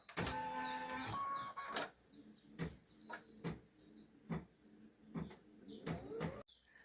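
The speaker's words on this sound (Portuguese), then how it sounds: "Posicionou, a máquina vai fazer a linha de fixação" An embroidery machine stitching a fixing line on a towel: a mechanical whirring run at first, then irregular knocks, clunks and short motor whines at close range with quiet pauses between.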